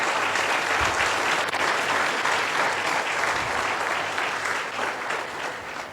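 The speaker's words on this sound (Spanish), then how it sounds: "¿Cuántos aplauden al Señor?" Loud, sustained applause from a large church congregation, steady clapping filling the whole stretch and tapering slightly at the end.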